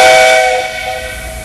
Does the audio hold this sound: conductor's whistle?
yes